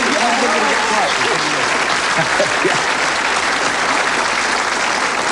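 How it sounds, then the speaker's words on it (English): Studio audience on a game show applauding a contestant, loud continuous clapping with voices faintly mixed in beneath it throughout. "Round of applause for Brian."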